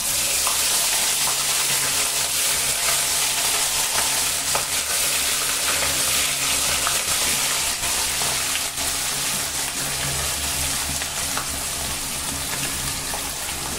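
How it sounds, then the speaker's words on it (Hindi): Fish frying in smoking-hot oil gives a dense, steady, loud sizzle that runs continuously without a break, heard up close. "इधर मछली फ्राई हो रहा है"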